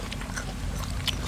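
Close, crunchy chewing of large field apple snails eaten with a spicy dipping sauce, a brief run of crisp bites and mouth clicks.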